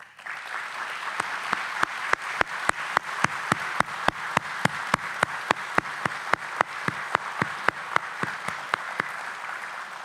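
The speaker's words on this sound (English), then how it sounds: "Let's give them a round of applause for their extraordinary work and commitment." An audience at a groundbreaking ceremony for a new commercial port of entry in Douglas, Arizona applauds for about ten seconds. The clapping is steady and even, with a few sharp, distinct claps standing out.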